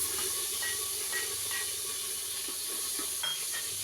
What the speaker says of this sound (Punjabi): ਇਹ ਆਪਾਂ ਪਹਿਲਾਂ ਟਮਾਟਰ ਪਹਿਲਾਂ ਪਾਵਾਂਗੇ